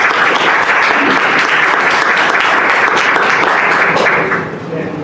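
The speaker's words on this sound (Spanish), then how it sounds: "Un aplauso para Alfonso." An audience at a university science-culture talk breaks into loud, thick applause for a speaker, many hands clapping together continuously before easing slightly at the close.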